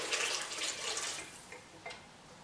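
Dissolved yeast in distilled water poured into a whole wheat almond oat bread mixture, a soft splashing trickle that tapers off, with a couple of small drips toward the end; fairly quiet and close.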